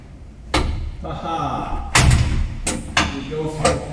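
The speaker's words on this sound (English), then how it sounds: "That is a door." A welded DIY 4x4 camper canopy door swings shut several times in a row, each closing landing as a loud, near metallic slam or thud, with a voice speaking briefly in between.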